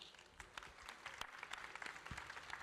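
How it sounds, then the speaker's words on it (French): A conference audience applauds the speakers, with faint, scattered claps that sound distant and quiet. "On peut les applaudir."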